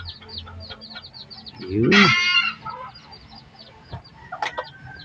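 A bantam hen among her newly hatched chicks gives a loud clucking call near the middle, with soft peeping and farmyard chatter around it and a brief spoken word.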